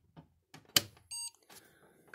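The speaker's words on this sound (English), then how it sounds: "Hear the speaker beep." A single short electronic beep sounds from a computer speaker on an NEC V40 8088-compatible motherboard, a steady tone lasting a fraction of a second, surrounded by faint clicks and handling noises in a quiet room.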